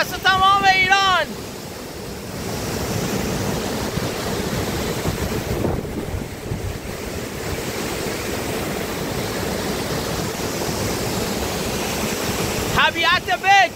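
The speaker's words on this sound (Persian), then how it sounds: "طبیعت بک، آب و هوای عالی، چشمه های خروشان" Roaring springs at Bagh-e Rostam in Ardal give a steady loud rush of flowing water with wind noise, while someone talks briefly at the start and end.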